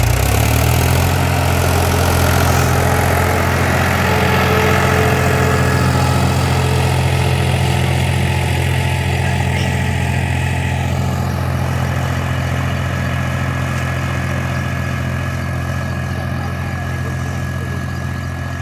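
A tractor engine runs steadily in a sugarcane field at sowing time, a loud, even, low drone that holds for the whole stretch with no talking.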